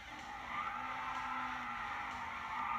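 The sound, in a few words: car tires spinning in a racing video game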